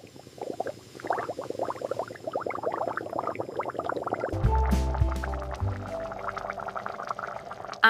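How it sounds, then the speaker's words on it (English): Water bubbles and gurgles in a pot, a close, busy liquid burble that thickens into a louder rolling boil partway through. "The water is boiling."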